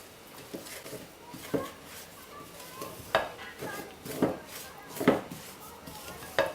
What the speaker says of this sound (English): mix them into the melted butter to make a smooth dough